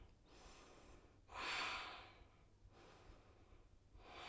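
Slow breaths during a vinyasa yoga practice, with long airy inhales and exhales rising and fading at close range, faint and steady with no talking.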